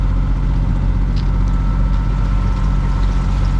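A sailboat motoring under engine power near the Balearic Islands, off Majorca: a steady, loud, unbroken engine drone with water rush throughout, no voices.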